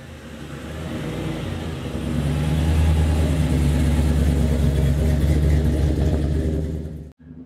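A 1957 Chevrolet Bel Air restomod drives off, its engine rumbling and building as it accelerates, loud and close from the cabin, then cutting off abruptly near the end.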